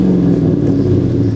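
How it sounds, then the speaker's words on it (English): Mercedes-AMG car engine running loud and close, a deep, steady low rumble without clear revving peaks. "You gotta love the purr of that AMG."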